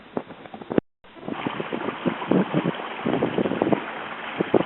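A sailboat beats to windward at about 5 knots on Lake Somerville. Steady wind rush and water wash from the hull sound close to the microphone, with a short dropout early on.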